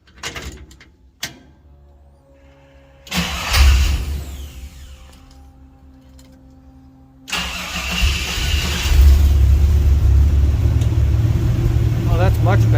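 A 1954 GMC COE truck engine cranks, coughs briefly, then catches and settles into a rough, loud idle up close, with a voice talking over it in places.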